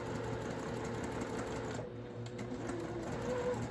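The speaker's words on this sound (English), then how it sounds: "And then as it stitches, I'm just watching right here as it goes under the presser foot." A sewing machine stitches the curved edges of a quilt block in a steady, continuous mechanical whir that holds nearly constant throughout, with a brief dip midway.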